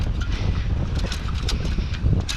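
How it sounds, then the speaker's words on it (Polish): Steady wind buffets the microphone with a continuous low rumble and rushing hiss, no pauses or voices. "Dzisiaj nawet jest ładna pogoda, tylko wiatr wieje."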